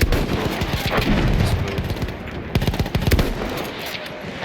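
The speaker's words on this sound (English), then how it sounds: "A bunch of guys over here popping shots at once." Several enemy rifles in Battlefield 1 fire at once in dense, overlapping bursts of sharp cracks and booms, loud and continuous across the whole stretch with no talk over them.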